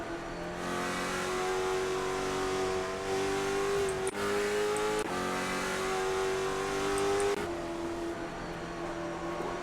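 A race car in the iRacing game at Stafford Speedway, its engine held at a high, steady roar under full throttle, briefly dipping and climbing again as it pounds on through the corners.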